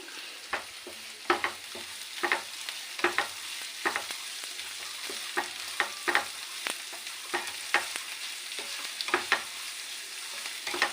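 Thick-cut onions fry in a pan under a steady sizzle, with a spatula repeatedly scraping and stirring in a loose, uneven rhythm. The sound stays close and clear, with no talking.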